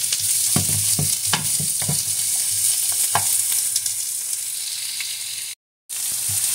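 Garlic and onions sauté together in a pan, a steady close sizzle broken by clinks and stirring scrapes, with a brief cutout near the end.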